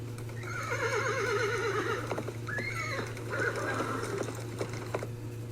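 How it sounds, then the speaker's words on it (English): A horse, the winged Pegasus of Greek myth, whinnies in a long, wavering neigh followed by shorter snorting calls. The sound is clear and moderately close over a steady low hum, with no talking. "In his hand, the winged horse Pegasus."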